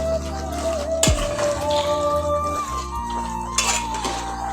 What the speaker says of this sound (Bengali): এখন এই সিমগুলো আমি ঢেলে দিচ্ছি ঢেলে দিয়ে ঢেলে দিয়ে আমি সেটা ভালো করে নেড়ে ছেড়ে দেবো